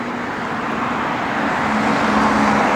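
A 1967 Plymouth GTX driving on the road, giving a steady, full roar of road and engine noise that holds even and loud throughout with no other sound.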